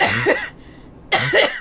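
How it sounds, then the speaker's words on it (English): A person coughs twice in a passing car on a UK highway, two short raspy bursts close to the microphone separated by a brief quiet pause, with a few spoken words alongside. "That's me coughing."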